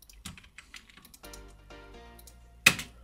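Rapid clicking keystrokes on a computer keyboard as a command is typed, a steady close run of taps ending in one sharper, louder key press, with no talking.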